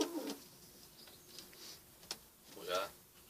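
Young white tippler pigeons, some fitted with leg rings, cooing in short soft phrases at close range, with intermittent ticking and clicking sounds in between.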